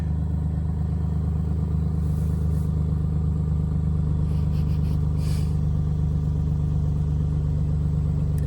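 A 2006 Toyota Highlander's 3.3-liter engine idles steadily at close range, a continuous low rumble with an even hum and no talking.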